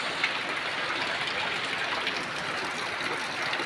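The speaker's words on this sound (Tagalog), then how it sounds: "napakalakas po ng ulan" Heavy rain pours down steadily in a broadband, unbroken hiss that stays loud and even throughout, with no voices over it.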